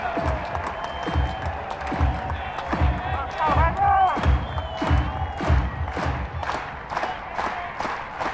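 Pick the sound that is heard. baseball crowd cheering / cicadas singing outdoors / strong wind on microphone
baseball crowd cheering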